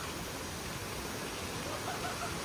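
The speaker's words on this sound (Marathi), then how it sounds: "हे छोट्याशा ब्रिजवरून नदीचा आनंद घेताना" A river at Haruna Shrine in Gunma, Japan, rushing beneath a small bridge, a steady broadband roar of flowing water filling the scene evenly and close by, with no voices over it.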